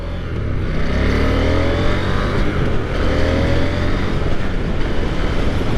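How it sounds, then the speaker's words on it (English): A 2023 KTM 890 Duke R motorcycle accelerates with a loud, steady, deep engine rumble and broadband road and wind roar, heard up close throughout. "It sounds great though when you're accelerating. It's got a deep rumble to it."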